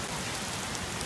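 A hard downpour drums on surfaces as a thick, continuous patter of raindrops, close and steady, with no talking.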